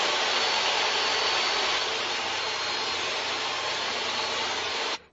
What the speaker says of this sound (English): So is ripping this 1-inch thick piece of hard maple.